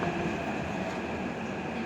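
A Hyderabad metro train pulls into the station with a loud, steady rumble and broadband rail roar that runs through the whole stretch, up close with no talk over it.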